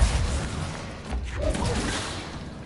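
Rockets exploding in the video game Control, heard as a heavy whooshing blast followed by rumbling thuds and crashes in a busy game mix, fairly loud with no voices.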